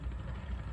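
A low, rough engine rumble runs steadily throughout, a small ketinting motorboat with a dompeng engine idling or chugging close by, with no voices.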